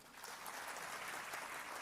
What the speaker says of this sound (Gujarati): જબરજસ્ત તાળીઓ સાથે